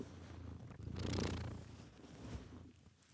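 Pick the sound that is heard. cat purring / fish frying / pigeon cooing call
cat purring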